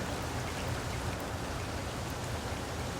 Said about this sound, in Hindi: बारिश का बरसना शुरू हो चुका है।